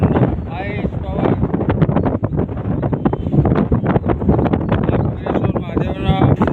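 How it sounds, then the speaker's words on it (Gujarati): Strong, icy wind buffeting a phone microphone outdoors behind a temple, a loud continuous rumbling roar, with someone talking over it. "જોરદાર પવન આવે છે ઠંડો આઈસ પવન"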